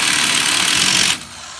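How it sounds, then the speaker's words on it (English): An electric impact wrench spins on a mobile home tire in one loud, close whirring burst of about a second, then cuts off to quieter background. "I use an electric impact."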